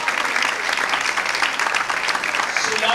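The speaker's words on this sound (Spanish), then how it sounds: "Un aplauso para Daniel, nuestra gerente." Lively, dense clapping from a Spanish-speaking crowd at a coaching and personal development event, sustained and fairly loud throughout with scattered individual claps standing out.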